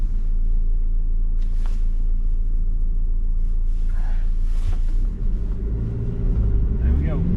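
A Volkswagen Transporter T7 van's diesel engine pulls away at city traffic lights, a loud continuous low rumble of engine and road noise that swells slightly as it accelerates near the end.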